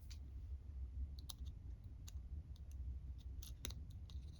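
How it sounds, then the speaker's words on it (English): Small craft scissors snip off the edge of a paper label in a series of quiet, crisp cuts and clicks spaced irregularly, close up over a low steady background rumble. "I'm going to snip this off."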